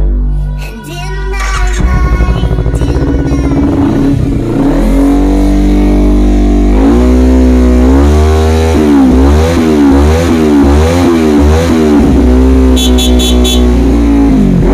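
Kawasaki Ninja 250 motorcycle with a custom Scorpio exhaust, idling and then revving repeatedly in close, loud, rising and falling bursts with a raspy exhaust tone.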